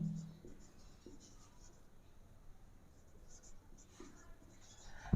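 A pen writes an abnormal loss entry in a branch stock-and-debtors account, giving soft, faint scratching strokes at close range against a quiet background.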